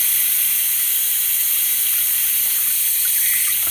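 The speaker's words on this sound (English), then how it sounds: "So then, I have to use warm water." Warm water runs steadily from a tap, a soft, even hiss of flowing water heard close up and alone for several seconds.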